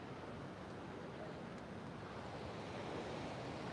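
Ocean surf rolling onto an oceanfront beach, a steady soft wash of waves with wind, continuous and fairly distant, with no distinct breaks standing out.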